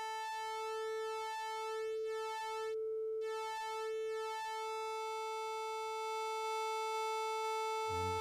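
Expert Sleepers Lorelei VCO tone: a sustained, buzzy synthesizer pitch rich in harmonics, shifting from a folded sine toward a sawtooth, with a slight wavering in brightness, loud and alone without talk.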